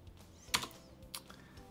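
Two or three quiet keystrokes land on a computer keyboard, soft clicks spaced about half a second apart against a faint room hush.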